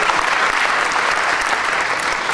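Loud, steady audience applause at a motivational seminar for students, a dense even wash of clapping sustained throughout without pause.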